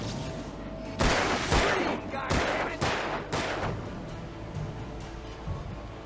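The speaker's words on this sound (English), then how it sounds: "Shoot him!" Gunfire from the video game Alan Wake: a burst of several sharp, loud shots in quick succession over a steady ambient background, with a few more scattered shots trailing off.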